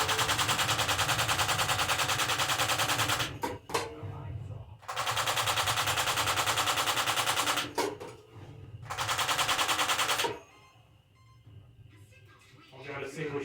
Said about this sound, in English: So I'll go to machine gun.